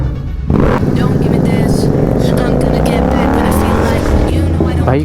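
Royal Enfield GT 650 motorcycle revving and accelerating loudly on a night ride, a raw rising engine roar close to the microphone with a voice talking over it.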